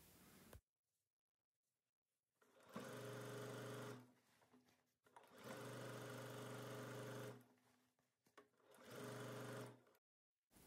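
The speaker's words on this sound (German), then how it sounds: "Ich verwende dafür die Freiarmfunktion meiner Nähmaschine." A sewing machine set up with its free arm stitches around a jeans waistband, running in three steady bursts of a few seconds each, close and fairly loud, separated by short quiet pauses.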